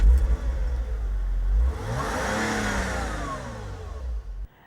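A Porsche Boxster engine cranks and fires, then revs up through rising harmonics and settles back, close and loud with no talk over it.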